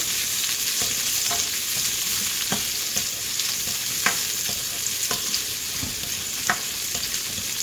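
Onions, garlic and Scotch bonnet pepper sauté in hot oil, a constant close sizzle broken by regular spoon scrapes and taps against the pan as the vegetables are stirred.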